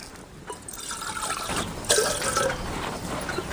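Water poured into a cooking pot for making wheat rava payasam, a soft continuous trickle and splash that swells midway, close and without talk.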